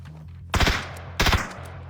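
Gunfire in the battle game PUBG: two loud, close bursts of rapid shots about half a second apart, each ending in a short rumbling echo over a low steady hum.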